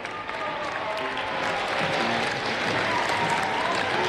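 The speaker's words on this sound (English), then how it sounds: "That is the entire Moose Lake student body cheering on their beloved teacher, Brad Hubrett" A whole school student body at an assembly cheers and applauds its teacher. Dense clapping and crowd noise fill the room and swell slightly louder toward the end.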